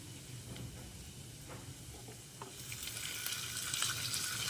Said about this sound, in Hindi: तो मुझे 4 से 5 मिनट हो चुके हैं इसको फ्राई करते हुए